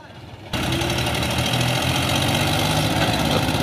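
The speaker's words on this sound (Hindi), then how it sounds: "दो ट्रैक्टर लग गए" A Mahindra tractor engine roars as it strains to pull a stuck cart loaded with sugarcane at a fair, kicking in abruptly after a brief lead-in and then holding a loud, steady heavy drone close by.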